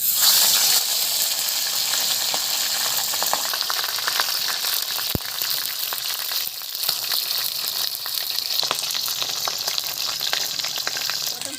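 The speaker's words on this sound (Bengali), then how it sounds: "তেলটা গরমও হয়ে গেছে। আমি এখন কুমড়োটা দিয়ে দিচ্ছি আস্তে করে।" Pieces of pumpkin hit hot oil in a wok, giving a steady close sizzle scattered with crackles and pops, fading slightly over time, with no talking.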